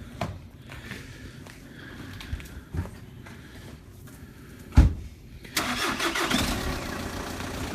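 A car engine cranks and catches, rising into a steady running rumble after a few faint clicks and a thump.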